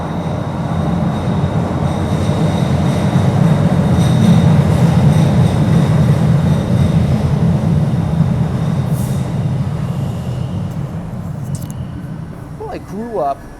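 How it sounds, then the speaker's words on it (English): A Boston subway train rumbles loudly and steadily as it pulls in, with a low roar, rattling cars and a brief squeal of wheels near the end. "Here comes the train again."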